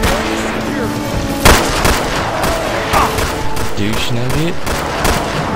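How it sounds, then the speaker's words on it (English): Gunfire in the video game Resistance and Liberation, a sharp shot and scattered bursts over a dense, noisy battle background, while players talk over voice chat. "Oh, I hear him shoot."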